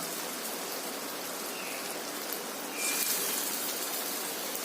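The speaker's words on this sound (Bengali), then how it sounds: "তেলটা গরম হয়ে গেছে, এবার এগুলো আমি ছোট ছোট করে ভেজে নেব" Small lentil and pumpkin fritters fry in hot oil, a dense, steady hiss and crackle like rain that swells slightly louder partway through, with no voices.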